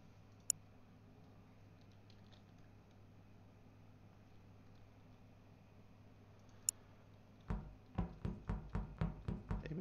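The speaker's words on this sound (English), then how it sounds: "I'm just typing in the chat." Keyboard typing in a chat during an Among Us game: a quiet room hum with two isolated clicks, then a quick run of sharp, evenly spaced key taps near the end, fairly close.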